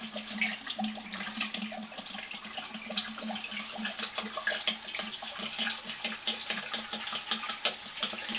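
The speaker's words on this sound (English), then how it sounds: "The main thing now is to get the alcohol on the lemon peels" Alcohol pours steadily over lemon peels for limoncello, a continuous bubbling, splashing liquid stream that runs unbroken for several seconds, close and fairly loud.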